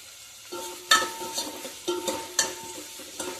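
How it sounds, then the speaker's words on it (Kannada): Onions stir-fried in a pan for Karwar-style lady fish curry give a steady close sizzle, broken by several sharp scraping stirs spaced about half a second apart, with no one talking. "ಒಂದು 5 ನಿಮಿಷ ತನಕ ಹುರ್ಕೊಳ್ಳೋಣ"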